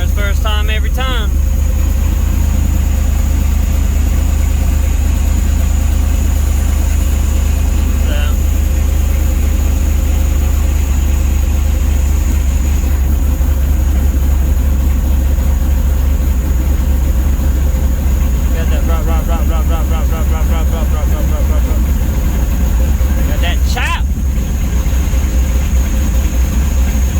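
A supercharged LSA 5.3 V8 in a C10 pickup idling with a lumpy, choppy rumble, loud and close, holding a steady low drone for the whole stretch with a few brief clicks and rattles on top.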